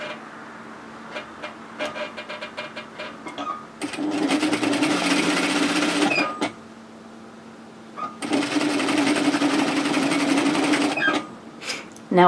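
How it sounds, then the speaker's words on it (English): A domestic sewing machine stitches a knit tee in two sustained runs of steady, fast needle chatter, close and loud, separated by quieter pauses with light handling clicks. "you just keep stitching right to the edge and back tack"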